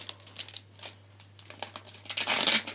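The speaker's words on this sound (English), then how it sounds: "Unwrap it, it's like everything's wrapped, so you unwrap it" A new iMac keyboard is unwrapped, with soft crinkling and rustling of wrapping in scattered bursts, growing louder and busier toward the end.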